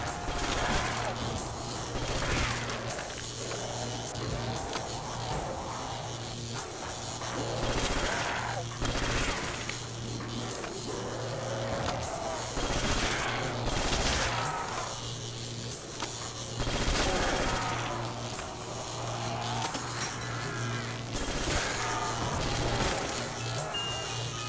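Repeated bursts of gunfire in Call of Duty: World at War Zombies on the Der Riese map crack loud and close across the whole stretch, with pauses between volleys and occasional speech.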